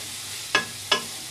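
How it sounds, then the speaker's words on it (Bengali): A spice paste sizzles softly in a pan with a little water while cooking for a Kolkata street-food egg devil, and two brief close stirring scrapes break through the steady frying hiss. "সামান্য একটুখানি জল দিয়ে মশলাটা আমি কষিয়ে নেব"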